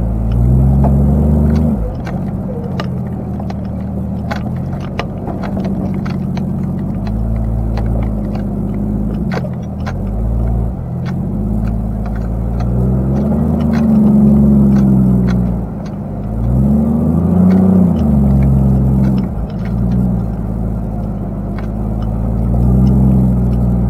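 A car drives along roads in Hawaii, its engine and road noise a loud, steady low rumble from inside the cabin, swelling and easing slightly as it moves.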